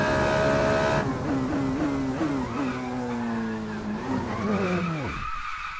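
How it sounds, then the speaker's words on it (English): A Formula Renault 3.5 race car spins out on the Sepang circuit in Assetto Corsa, with a loud, sustained tire squeal and skid over the whining engine as the revs drop at the end. "As we finally spin the car around."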